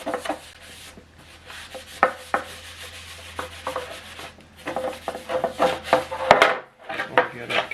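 Trim restorer is rubbed by hand onto faded plastic car trim, making soft, uneven scrubbing and swishing strokes with scattered sharper scrapes, fairly quiet and close, while a person speaks intermittently.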